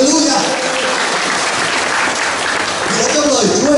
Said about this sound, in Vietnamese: Hãy vỗ tay cảm ơn Chúa vì đó.